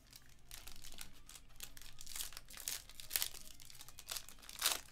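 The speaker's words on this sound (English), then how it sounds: "it's so nice ripping Inception packs after the Diamond Kings" 2022 Topps Inception baseball card packs torn open and crinkled by hand, with repeated crackling foil wrapper rips and crunching bursts at close range and no talk.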